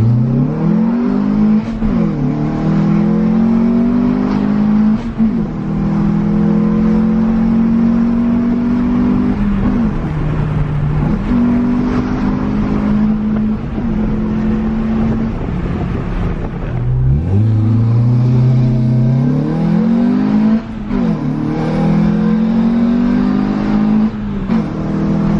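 A Renault Clio 182 Cup engine drones loudly from inside the car, pitch climbing through gears with brief drops at each shift as it accelerates, with wind noise.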